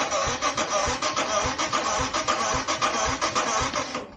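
A Royal Enfield Himalayan single-cylinder motorcycle engine cranking on the starter during a compression test, with worn piston rings; a rapid, even chugging rhythm of compression strokes, close and steady, then cutting off at the end.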